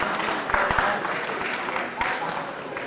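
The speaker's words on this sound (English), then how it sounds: "There was a cheer erupting from the feature match area." A crowd at a Magic: The Gathering Grand Prix quarterfinal feature match area breaks into cheering and clapping, a dense roar of applause with a few sharp claps, a commentator's voice mixed in.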